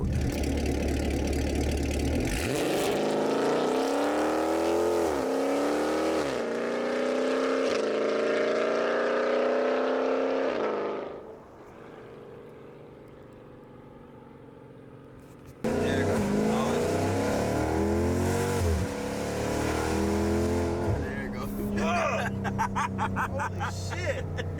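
A Dodge Charger Scat Pack with the 392 V8 and Corsa full exhaust revs and accelerates hard in loud rising pulls with gear-shift drops, falls briefly to an idle burble, then roars away again as people talk nearby.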